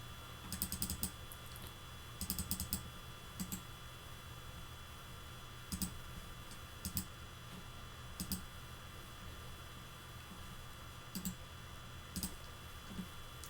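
Bursts of keyboard typing, clusters of quick clicks separated by pauses, moderately close over a steady background hum.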